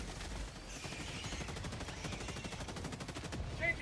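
An autocannon in the video game Helldivers 2 fires a loud, sustained stream of rapid, evenly spaced shots that rattle on without pause.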